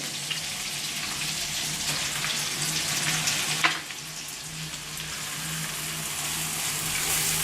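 Finely chopped onion fries in a pan for chicken butter curry, a dense, loud, continuous sizzle with a faint steady hum beneath and one brief clatter partway through.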